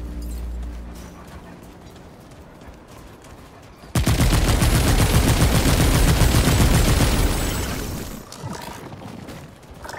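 Gunfire on a shooting range in the video game Remnant 2: quiet scattered sounds give way to a sudden loud burst of rapid automatic shots that rattles on for about four seconds, then ends in a few trailing shots.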